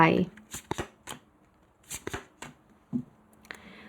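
Tarot cards are shuffled in short riffling bursts, several quick rustles spaced out at close range, and someone talks between them.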